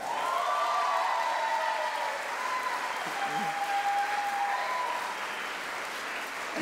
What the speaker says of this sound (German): dann macht Applaus bitte jetzt